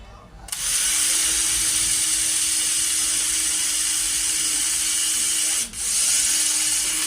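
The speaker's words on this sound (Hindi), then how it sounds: "तो सबसे पहले हम इसको ड्रिल करेंगे, यहाँ पे 2 होल कर लेंगे" A power drill boring two holes into the plastic frame of anti-sleep alarm glasses, a steady loud whirring hum that runs continuously with a brief dip midway.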